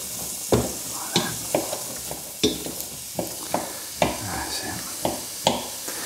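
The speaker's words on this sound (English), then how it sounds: "Now the pan's just starting to warm up, so I'm going to go in with the onions. And also, I've got the chorizo as well." Onions and chorizo stirred in an oiled pan as it warms up, with a soft frying sizzle under repeated sharp spoon scrapes and taps against the pan at a steady, uneven rhythm, close and moderately loud.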